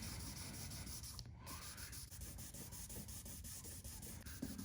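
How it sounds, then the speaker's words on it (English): Very faint rhythmic rubbing strokes of hand-sanding paint on a Honda CR-V during scratch repair, a soft repeated scrape under low background noise. "I'm gonna continue sanding"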